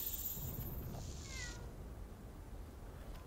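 A cat meows once, faint and brief, inside the video game Monster Hunter World, over a steady wash of in-game ambience.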